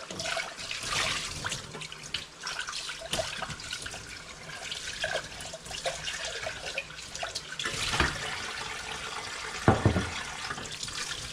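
Water from a kitchen tap runs and splashes while a blender container used for strawberry carrot smoothies is rinsed out, a soft continuous trickle broken by sloshes and clunks of the jug, close by and fairly quiet.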